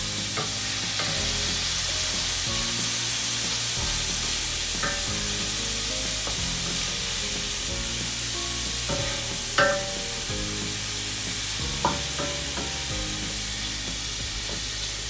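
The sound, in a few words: fish and shrimp cooking in a pan for paella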